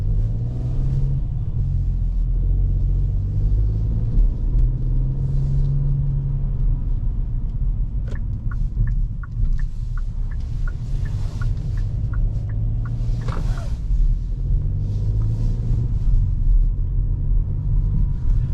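A Hyundai i20 with a 1.0 T-GDi 100 hp engine and DCT gearbox pulls out of a large garage at night: a low steady engine rumble from inside the cabin, with a few faint ticking clicks midway, and no talk.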